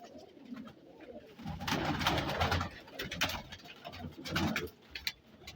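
Pigeon cooing from prized kabootar of a breeder in Sheikhupura, several soft throaty coos rising and falling over a few seconds, fairly close, with some background rustle.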